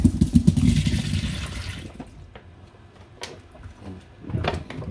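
Food for a home-cooked Korean meal is rinsed under a running tap. A loud gush of water lasts about two seconds and is followed by quieter clattering and handling sounds close by.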